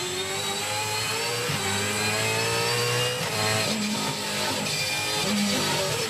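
A race car engine accelerates hard during a Dunlop Super2 Series race at Newcastle, a loud sustained roar with rising and shifting pitch and overlapping engine tones from nearby cars.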